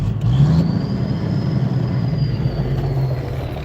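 A semi truck's large diesel engine drones with a steady low rumble as the throttle is held, accompanied by a faint high whine.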